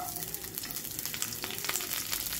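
Mustard seeds, cumin and onion sizzle in hot oil in a pan for karle fry, a steady, close crackling frying hiss that runs throughout without talk.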